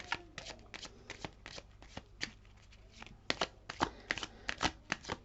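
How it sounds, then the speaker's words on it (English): Tarot cards being shuffled by hand, a run of crisp riffling and flicking bursts at close range, uneven in rhythm and growing denser toward the end, with no talk over them. "So I'll pull one message card to wrap this up for you."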